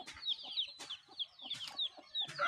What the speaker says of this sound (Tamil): நாட்டு கோழி கொஞ்சம் கையில் மாட்டாது.